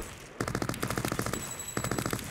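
Rapid automatic gunfire from an AI character in a CRYENGINE video game level, a dense run of bursts after a brief pause, then a short break and another burst, loud and close with no talking.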